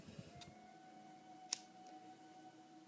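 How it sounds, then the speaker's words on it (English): A single quiet snip of scissors cuts a piece of yarn during Tunisian crochet, a brief sharp click near the middle against faint room background. "Let me just cut a piece here"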